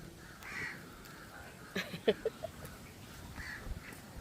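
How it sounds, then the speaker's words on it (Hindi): Several crows caw in short, separate calls, a few close together near the middle, over steady open-air background noise in a quiet outdoor spot. "यहाँ पर देखिए कितने सारे कौवे हैं, बहुत सारे।"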